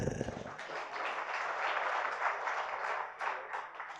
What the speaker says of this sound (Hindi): तालियां बजा दी बेटा